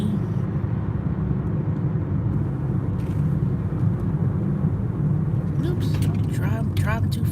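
Steady low engine and road rumble from a car being driven along, continuous at moderate level, with a person talking over it throughout.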